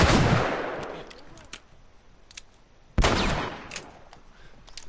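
Gunfire from a powerful one-shot-kill gun in The Last of Us: two loud, sharp shots about three seconds apart, each trailing off into a long echoing decay, with faint clicks between.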